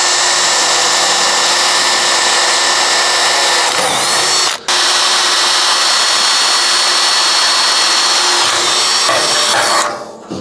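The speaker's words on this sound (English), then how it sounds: "first I'm going to drill like a little 1/8 inch pilot hole." A power drill bores a small 1/8 inch pilot hole into tractor metal, whining loud and steady, stopping briefly midway and cutting off at the end.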